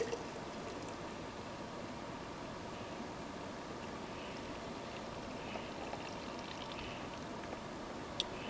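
A steady, fairly quiet stream of homemade lime sulfur pours into a quart jar and splashes continuously with no break, a soft hissing wash running the whole time.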